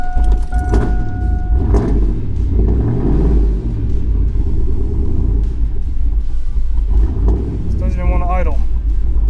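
A cammed, lifted Chevrolet Tahoe with a 450 HP engine runs rough with a steady low rumble at close range while the gas pedal is held. Someone talks over it throughout.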